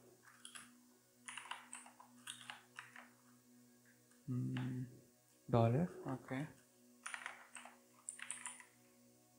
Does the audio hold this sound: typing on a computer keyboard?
yes